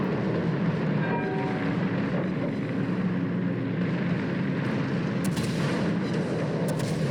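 Warship blowing up in the naval combat game World of Warships, a sustained dense rumbling roar of explosion and battle noise that fills the whole stretch at steady loudness, with no talking.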